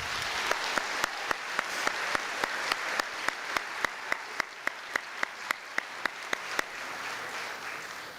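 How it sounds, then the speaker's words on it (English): A crowd at an eighth-grade promotion ceremony applauds the teachers with a soft wash of clapping. Sharp, evenly spaced claps or beats ring through it about every quarter second, then stop near the end while the quieter applause carries on. "I'd like to have a clap or a shout out to all the teachers here"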